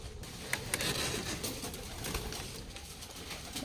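Pigeons cooing inside an enclosed pigeon-farm shed, a soft continuous murmur of coos and light rustling at moderate distance, with no talk.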